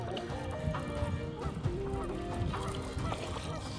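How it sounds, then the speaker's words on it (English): A goose at the water's edge honks loudly and close by in repeated harsh calls, over a busy, noisy background at a bass fishing spot. "I get mauled by this goose right over here."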